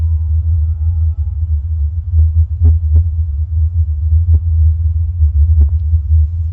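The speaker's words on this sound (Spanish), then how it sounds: "Ahí tenemos el sonido de Taos de nuevo." The Taos hum comes through as a steady, loud low rumble that throbs slightly, with a few faint soft knocks on top and no voices.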